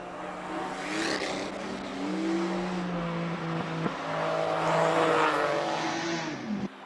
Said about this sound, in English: Number 13 up next. Mark Kirk in the Porsche GTS.